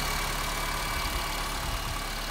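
A 2008 Honda Civic sedan's 1.8-liter four-cylinder idles in a steady, even hum with no talking.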